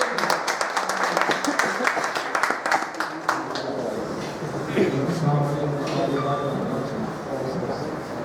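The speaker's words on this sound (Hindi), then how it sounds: "जोरदार तालियों से" Crowd applause and clapping fill the first few seconds, then give way to a noisy room with people talking.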